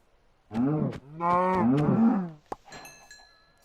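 A blocky cow in the video game Minecraft gives two drawn-out, loud, close moos in quick succession. A sharp click and faint high game tones follow.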